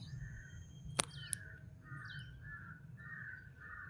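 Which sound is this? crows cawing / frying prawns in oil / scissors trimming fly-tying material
crows cawing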